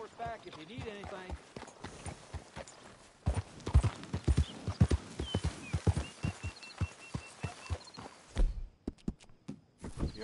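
Horse hooves clip-clop steadily on the ground in a PS4 game, close and fairly loud, with occasional soft whinnying and a voice talking over the footfalls.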